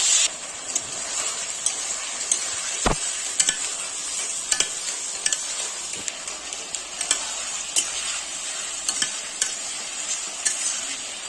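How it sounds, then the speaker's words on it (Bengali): Fried potatoes and pointed gourd are stir-fried with spices and garam masala: a steady sizzle runs throughout, broken by regular scraping and tapping of a spatula against the pan, close and without speech. "এবারে ভেজে রাখা আলু আর পটলগুলো দিয়ে ভালো করে কষিয়ে নিতে হবে"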